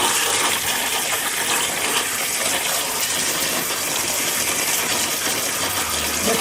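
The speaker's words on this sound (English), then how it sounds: "We're just going to take them, rinse them off, give them a good rinse." Food being rinsed under a steady stream of running tap water, a continuous broadband gush that stays loud and close for the whole stretch, with no talking.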